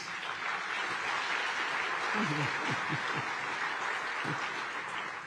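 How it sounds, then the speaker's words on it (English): A round of audience applause at a port's annual address event, a continuous wash of clapping heard from a distance, with faint voices underneath. "we need to give him a round of applause."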